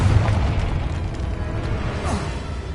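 In Hogwarts Legacy, a Confringo spell blast produces a short, low booming burst followed by a rumbling tail, moderately loud and heard alone.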